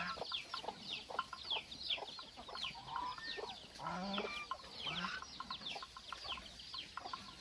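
Chickens clucking close by on a Thai cattle farm, a busy overlapping chorus of clucks and squawks at moderate, steady loudness.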